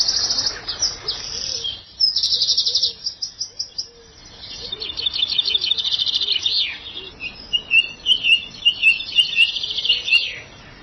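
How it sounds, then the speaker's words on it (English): Birds sing in the Highgrove garden, dense overlapping chirps and trills with fast repeated phrases, loud and close, running continuously with a softer cooing layer underneath. "the sheer amount of bird song is just absolutely phenomenal"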